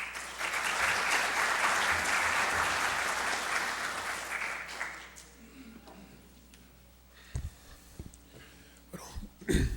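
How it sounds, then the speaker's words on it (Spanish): Applause from an audience welcoming an engineer at a mining institute evening talk, a full burst of clapping for about five seconds that fades out, followed by quiet room noise, a few coughs and throat clearing, and brief stirrings. "yo quisiera recibir con un voto de aplausos al ingeniero Rafa Yauyó Verástegui"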